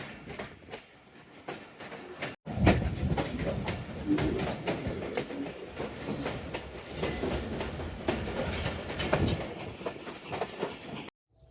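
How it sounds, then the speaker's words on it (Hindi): Narowal passenger train rolling out after a station stop, a loud, steady rumble with clickety-clack of the wheels on the rails after a sudden onset, heard from on board. "दो मिनट के स्टॉप के बाद हम रवाना हो चुके हैं रैया खास स्टेशन से"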